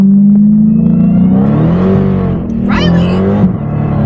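Dodge Hellcat engine rising in pitch under acceleration, a steady loud roar climbing through the revs with people talking over it inside the car.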